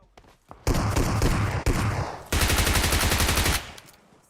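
Gunfire in the mobile battle-royale game PUBG Mobile: loud bursts of automatic fire in two sustained stretches with a brief gap between them, close and dominant, with no talk over them.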